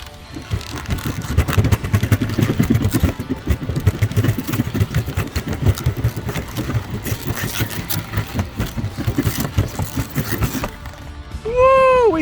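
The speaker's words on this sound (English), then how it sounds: "The roller coaster's alive, so let's go for a ride" A backyard roller coaster runs along its track, producing continuous rattling and clattering of cars and wheels, loud and near, with a brief burst of voices near the end.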